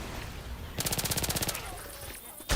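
Rapid automatic gunfire in a realistic shooter video game, a loud burst of about a dozen evenly spaced shots followed by a quieter stretch and a sudden loud blast at the end.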